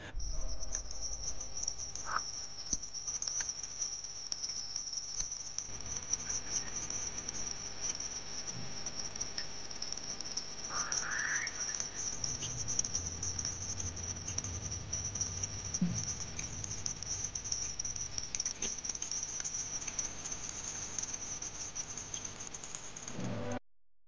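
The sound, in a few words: Voyager 1 plasma wave recording of Jupiter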